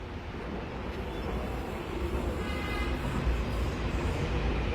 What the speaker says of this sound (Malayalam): കണ്ടില്ലേ, മെട്രോ പോകുന്നുണ്ടല്ലോ